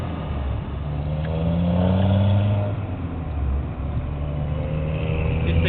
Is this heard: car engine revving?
yes